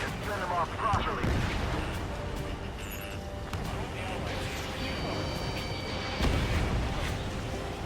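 Artillery fire in the Ace Combat 7 campaign mission Homeward, rapid booming shots and rumbling blasts spread across several seconds at moderate level, with radio voices talking over them.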